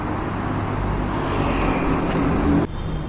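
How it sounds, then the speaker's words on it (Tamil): Busy 8 a.m. road traffic in Kuala Lumpur rumbles along as a steady, loud wash of engines and tyres, with no single vehicle standing out. "காலையில் 8 மணிக்கு எப்படி டிராஃபிக் பாருங்கள்"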